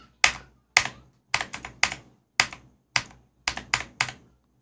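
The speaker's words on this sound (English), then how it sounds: "I'm tapping my keyboard." Individual keys are tapped on a computer keyboard, about a dozen sharp clicks in an uneven rhythm, close and clear against silence.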